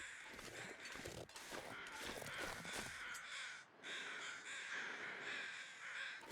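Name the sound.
carrion crows cawing in the video game The Long Dark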